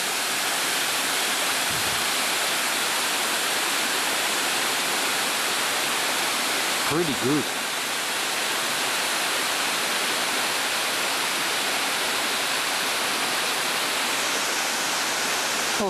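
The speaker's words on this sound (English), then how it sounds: "There's the next waterfall" A waterfall at Mount Field National Park roars as a steady, loud rush of broadband water noise for the whole stretch, with a brief voice speaking over it near the middle.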